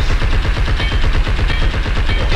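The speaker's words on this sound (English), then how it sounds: "We get a fucking firework show." Rapid, dense bursts of fireworks going off in the pig-slaughtering shooter game Blood and Bacon, a loud continuous crackling barrage with no gaps and no voices.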